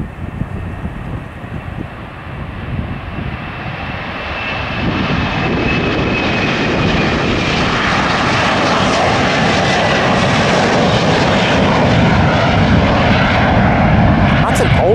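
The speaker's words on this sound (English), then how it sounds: "Yeah, about to take off. Well, on this proper runway. A330." A Qantas Airbus A330 taking off from a runway, jet engines swelling from a distant rumble into a loud, sustained roar with wind buffeting the microphone, while people chat nearby.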